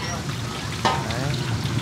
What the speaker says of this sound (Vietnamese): Bên này là chiên lại cho nó giòn.